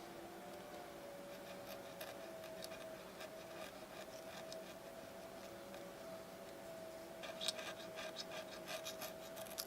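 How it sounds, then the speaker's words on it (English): A sharp X-Acto knife trims along marked lines on a speed loader part, making faint, delicate scratching strokes over a low steady hum, with a denser cluster of quick cuts near the end. "take a good sharp X-Acto knife and follow along the lines here, and kind of a cutting motion here"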